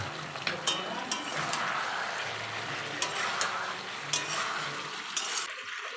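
Green chillies drop into a pan of vegetables and steady frying sizzle continues, with several sharp metallic clinks of a utensil scattered throughout, close and moderately loud, no talking.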